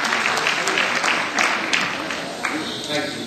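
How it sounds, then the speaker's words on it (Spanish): Audience applause for volunteers at a Rethink 2009 business conference talk: dense, steady clapping from a full room that swells and holds for about three seconds, close and loud, with some talk mixed in. "un aplauso para estos casi voluntarios"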